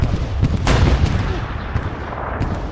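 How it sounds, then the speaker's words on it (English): A rocket barrage pounds in a WWII shooter game, bringing a steady rumble of blasts and explosions, with several sharp impacts standing out over the din. "we're seeing the rocket barrage"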